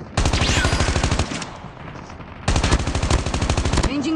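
Loud automatic gunfire in Call of Duty Mobile battle royale on the Alcatraz map: two long, rapid bursts of rattling shots separated by a short pause.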